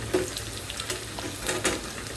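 Food frying in a pan during home dinner cooking, a continuous close sizzle with a few light stirring clicks and taps, steady and moderately quiet with no voices.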